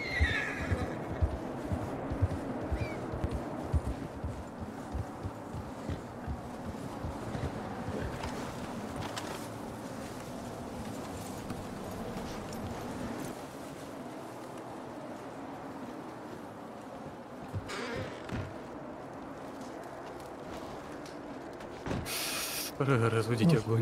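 Horses whinny and hooves clip-clop at night during a blizzard in Red Dead Redemption, the neighs rising over a constant windy wash, with scattered thuds and a louder burst near the end.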